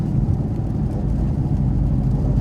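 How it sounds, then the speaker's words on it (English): A Ford Mustang with an aftermarket exhaust, otherwise stock and with a fault, driving along with a loud, steady low engine and exhaust rumble heard from close by and without talk. "at least the exhaust makes these drives a little bit more fun"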